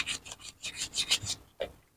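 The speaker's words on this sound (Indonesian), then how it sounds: "Kalau teman-teman punya amplas halus bisa diamplas, pakai amplas yang halus" Short bursts of dry rasping friction, several strokes in an uneven rhythm, close and fairly quiet, as fine sandpaper rubs rust off a metal electric fan part.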